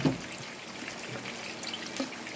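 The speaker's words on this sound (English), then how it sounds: "we're going to add some white pear vinegar inside of it" White pear vinegar is poured into a cooking pot for a Jamaican escovitch fish garnish, making a soft brief trickle in a quiet kitchen with no talk.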